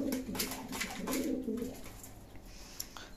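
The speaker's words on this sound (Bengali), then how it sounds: "আমার কবুতরগুলো অনেক উড়াউড়ি করে এবং অনেক দূরে যায়" Domestic village pigeons coo softly in low, repeated throaty calls, close but faint, against a quiet rustling background with no talk.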